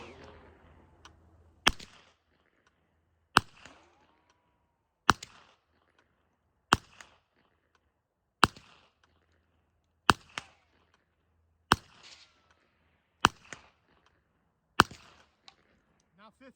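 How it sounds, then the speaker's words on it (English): Suppressed B&T SPC9 PDW fitted with a B&T RBS SQD suppressor firing 150 grain Federal Syntech ammunition: ten sharp, evenly spaced shots about 1.6 seconds apart, each a crisp crack with a short tail, with quiet pauses in between. "We're gonna be shooting 150 grain Federal Syntech."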